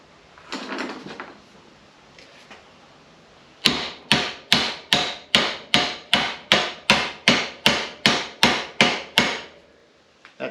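Hammer tapping a universal joint bearing on a drive shaft or PTO shaft held in a vise, about fifteen sharp metallic strikes in an even rhythm close up, after a few faint handling knocks, no talking.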